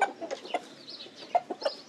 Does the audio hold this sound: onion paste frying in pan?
no